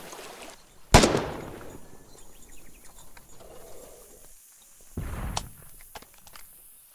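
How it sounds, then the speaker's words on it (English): Artillery shells exploding in the war game Foxhole, with one loud sharp close blast followed by a decaying rumble, then a second heavy impact a few seconds later amid quieter scattered battlefield noise. "Do they have this much artillery?"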